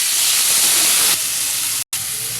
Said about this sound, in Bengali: গরম তেলেতে এই যে পেঁয়াজ কেটে রেখেছি আমি আগে থেকে, এটা দিয়ে দেবো